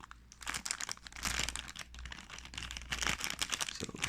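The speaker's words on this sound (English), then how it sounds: "Now we're going to just open this little box." Close crinkling and rustling of a small plastic bag and light cardboard handling while opening a basic-series Tomica toy car box holding a latest-generation Honda Civic Type R, in steady bursts throughout.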